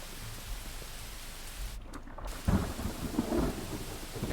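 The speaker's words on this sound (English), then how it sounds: "He is struck by lightning in this game." A lightning strike in the video game Pathfinder: Wrath of the Righteous sets off a heavy rumble of thunder that swells about halfway through, over a constant rain-like hiss.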